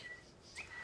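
A phone ringtone mimicking a bird whistle chirps faintly, with a short thin tone early on and a brighter rising whistle near the end, set against quiet room noise.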